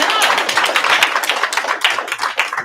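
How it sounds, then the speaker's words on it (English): A round of applause at a city council meeting, scattered close hand claps from a modest group of attendees, uneven and lively, with some talk mixed in. "Let's give them a round of applause."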